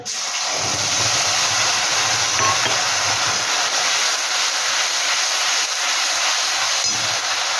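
Grated tomato dropped into a hot pan with spices for a vegetarian paneer dish, setting off a loud, broad, hissing sizzle that rushes in at once and then holds steady and close, with no talking.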